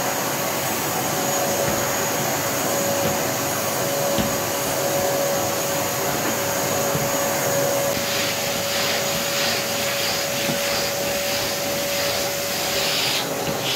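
Karcher WD3 wet-dry electric vacuum cleaner runs continuously and loudly up close, a steady rushing whine with a fixed tone and no talking.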